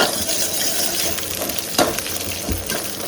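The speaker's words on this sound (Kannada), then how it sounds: "ಚಿಟಪಟ ಅನ್ಬೇಕಾದ್ರೆ 2 ಈರುಳ್ಳಿ ಕಟ್ ಮಾಡ್ಕೊಂಡಿರೋದನ್ನ ಹಾಕ್ಕೊಳ್ಳಿ" Two chopped onions frying in hot oil, a close, continuous crackling sizzle with occasional stirring scrapes and clinks of the pan.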